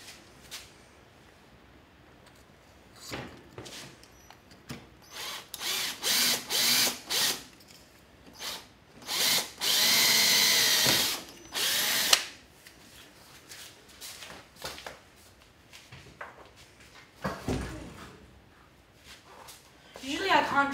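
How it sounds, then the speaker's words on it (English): A cordless drill bores through a centered hole during a FliteTest ElectroHub build. It whirs in several short, close bursts, then runs longer and louder, with stretches of quiet between. "and drill through the hole"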